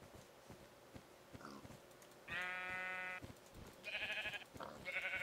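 Sheep bleating in a video game, with several sustained harmonic bleats of about a second each, loud and close, over a low background hum and faint clicks.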